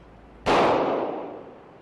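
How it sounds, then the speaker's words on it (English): A single loud, sharp .40 caliber pistol shot fired by a police officer during a penetration test, with a sudden crack followed by a ringing decay. "See for yourself as the officer fires the weapon."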